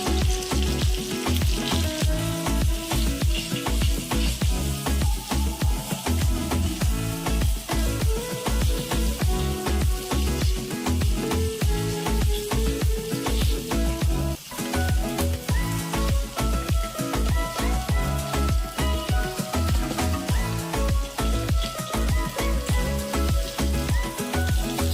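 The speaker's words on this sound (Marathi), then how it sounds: "त्याला छानसं क्रिस्पी होईपर्यंत त्याला आपण पूर्णपणे फ्राय करून घेऊया" Coated fish frying in a pan until crispy, a dense, loud, continuous crackling sizzle that holds steady and close throughout, with no voices.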